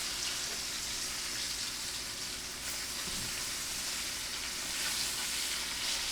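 Chicken and vegetables for smothered chicken sizzling in a pan, a steady, even hiss of frying that holds at a moderate level throughout with no voices.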